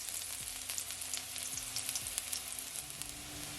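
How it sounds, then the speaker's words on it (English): Garlic frying in hot sesame oil, a steady close sizzle with crackling pops and occasional stirring scrapes. "I'm gonna add my garlic first"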